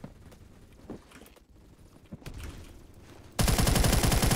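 HK21 machine gun fire in a video game, a dense, loud, rapid burst that cuts in abruptly near the end after quieter thumps and movement sounds.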